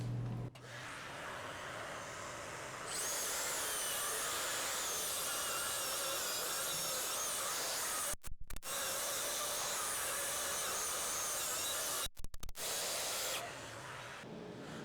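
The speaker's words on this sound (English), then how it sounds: "I'm going to go ahead and turn on the vacuum cleaner" A vacuum cleaner roars steadily with a loud broadband hiss, cutting out briefly twice before winding down near the end.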